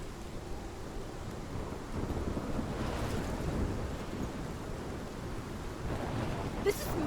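Storm wind and crashing waves from the video game Life Is Strange, a dense continuous roar with rumbling low surges, steady and loud throughout with no talk.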